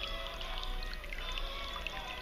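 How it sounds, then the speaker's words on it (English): Steady trickle of water through a tabletop fountain hand sculpted from pumice, flowing under a small bridge; a continuous close, soft splashing stream without pauses. "You see the water coming through underneath the bridge."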